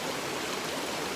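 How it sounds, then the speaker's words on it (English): A creek near Gregory Bald rushes steadily, a dense, even wash of flowing water heard close and fairly loud with no voices over it. "just want to show you this cool creek"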